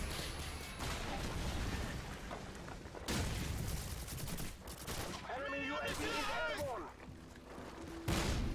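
Loud bursts of gunfire in Call of Duty 4 multiplayer include shotgun blasts and other weapons, arriving in heavy overlapping volleys with brief gaps, mixed with game sounds and a voice speaking at times.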